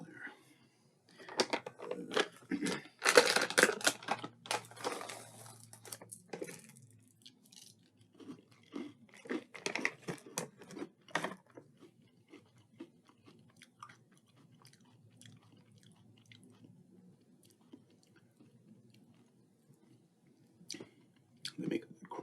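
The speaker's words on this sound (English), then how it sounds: "They make a good crunch, though." Crunchy Cookie M&M's are chewed close to the mic, with dense, crisp crunching bursts at first that thin into softer, intermittent chewing, and a little quiet talk in between.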